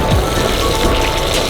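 Rain falling during a Onewheel ride across Europe, a dense, steady hiss of drops hitting surfaces close by, continuous and fairly loud, with no voices.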